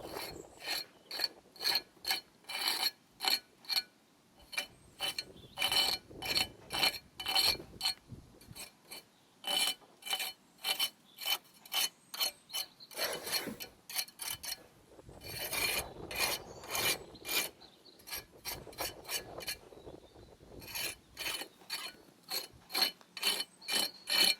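Old mortar being scraped back at the base of brickwork while repointing outdoors, heard as a long run of quick, rhythmic rasping strokes, close and fairly loud, with short pauses between bursts and no talking.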